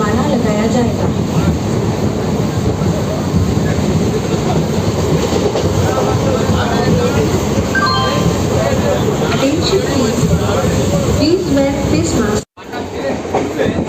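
Night local train pulling into Bagnan junction station in West Bengal, a loud continuous rumble of wheels and carriage rattle with rhythmic clatter throughout, voices faintly mixed in, cutting briefly near the end.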